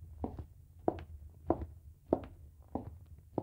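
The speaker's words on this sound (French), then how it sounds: "Voici le son d'une chape flottante bien réalisée." Footsteps fall on a well-built floating screed floor, heard as six dull, soft impacts at a steady walking pace, faint and muffled with little ring, no voices.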